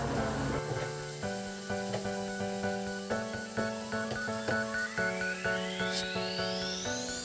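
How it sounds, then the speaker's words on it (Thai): Pork sizzles in a hot pan with rhythmic stirring scrapes as it is stir-fried, while tonal background music plays throughout. "ผัดคลุกเคล้าให้ทั่วกับหมูที่อยู่ในกระทะนะคะ ผัดไปเรื่อย ๆ ค่ะ"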